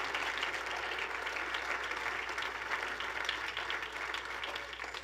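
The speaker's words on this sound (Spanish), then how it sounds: "Alguien le da un aplauso al Señor." Steady, sustained applause from a church congregation during a sermon: a continuous, even roar of many hands clapping, moderately distant and holding level throughout.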